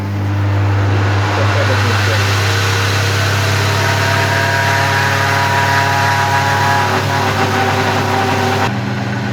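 A blender at a medium setting churns thick protein pancake batter, giving a steady, loud motor whir with a low hum that lasts throughout and shifts slightly near the end.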